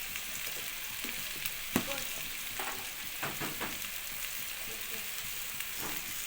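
Vegetarian pasta seasoned with salt and turmeric is stirred in a hot pan, giving a steady close sizzle and frying hiss with irregular scrapes and clacks of the spoon throughout, with no talking.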